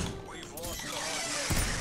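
A door creaks open in the Call of Duty Black Ops Cold War video game, a short, close, wavering squeak lasting under a second and ending in a thud, with game ambience around it.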